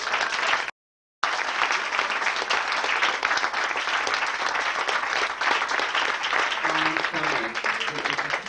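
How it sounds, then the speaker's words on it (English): An audience at a drag cabaret show gives a long round of applause for the performer's company, steady and full-bodied; a brief dropout interrupts it early, and a voice starts speaking softly under the clapping near the end. "another round of applause for my wonderful company"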